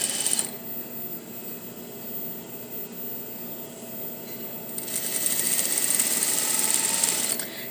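Sewing machine stitching through a folded all-in-one dress facing, a close mechanical whirring that runs in two bursts with a softer stretch between, no voices.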